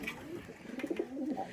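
Pigeons in a loft give soft, low cooing calls that murmur close by over a steady background rumble.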